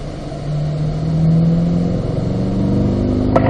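A Chevy Corvette engine pulling hard in 4th gear on a race track, a loud continuous roar that rises steadily in pitch as it accelerates, with no talk over it.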